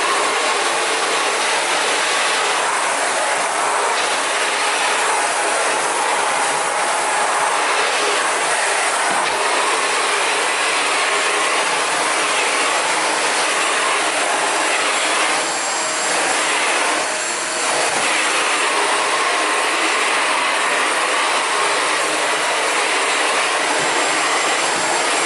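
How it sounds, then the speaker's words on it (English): A bagged vacuum cleaner runs continuously through a debris pickup test on the floor, a loud, steady high whine and rushing airflow with small shifts in pitch as it moves. "So I vacuumed with our bag vacuum."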